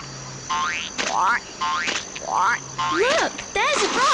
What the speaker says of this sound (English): Look, there's a frog.